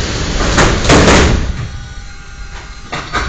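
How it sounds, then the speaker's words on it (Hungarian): Doors on a Budapest M3 metro train slide shut with a loud rumbling, hissing rush that peaks about a second in, then fades into the steady hum of the carriage, with a small knock near the end. "Kérem, vigyázzanak, az ajtók záródnak."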